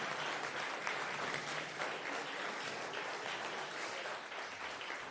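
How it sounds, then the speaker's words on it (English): Sustained audience applause for Reverend Jesse Jackson at a budget-focused public gathering, a steady dense wash of many hands clapping throughout without pause. "Give him a round of applause."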